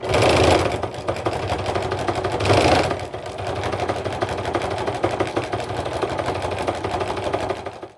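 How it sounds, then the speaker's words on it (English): A sewing machine stitches a straight line through jelly roll fabric, its fast, steady mechanical whir running continuously with two brief louder bursts early on. "I'm going to sew a line, just a straight line, down both sides of this line that I drew"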